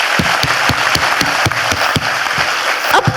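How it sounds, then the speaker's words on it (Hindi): Loud, sustained applause from an audience at a Modicare business seminar, with steady clapping and occasional louder, rhythmic claps standing out from the dense wash throughout. "जोरदार तालियां हो जाए अमित जी गौरव जी के लिए"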